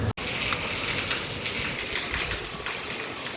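Rain falls outdoors in the afternoon on a park walk, a steady close hiss with no break apart from a brief dropout at the start.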